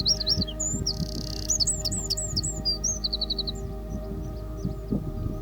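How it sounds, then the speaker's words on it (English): A bird sings at dawn near Kinder Scout, a series of clear, whistled chirps and trills, fairly close, over a low steady background hum. "there's a lovely bird singing"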